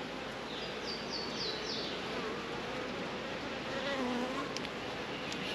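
Honey bees at an open hive during a honey-flow inspection, a dense constant buzzing drone, close and even in level, with no voices over it.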